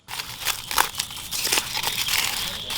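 Cooked chicken is unwrapped from pumpkin leaves, giving close, soft crinkling and crackling as the leaves are peeled open, with irregular rustles over about three seconds.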